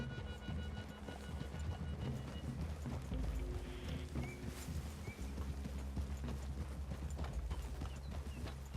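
Horse hooves clip-clop steadily on the ground in the Red Dead Redemption 2 video game, several horses moving at a walking pace, moderately near with quiet ambient background.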